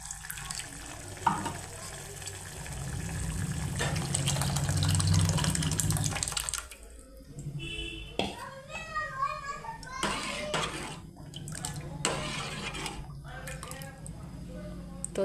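Dal is tipped into a sizzling pan of spices in a village kitchen and stirred, with a loud hiss of frying followed by scraping and clinking as it is mixed, while someone talks throughout.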